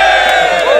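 A crowd of supporters at beach games roars in a loud, sustained cheer, voices blending into one bright, close wall of shouting that runs unbroken for a moment.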